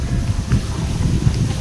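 Wind gusts steadily across the end of a bridge at Pacific Cebu Resort, a continuous low rumbling buffet against the microphone with no one talking.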